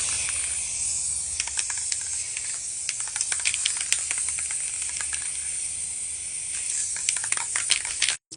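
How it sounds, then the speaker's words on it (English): A spray can sprays gloss black paint onto small planet models in a continuous close hiss with short sputtering bursts, then cuts off abruptly at the end. "Now we'll spray everything in gloss black."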